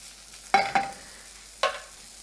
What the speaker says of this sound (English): I'm going to go ahead and just pop that right into the pan.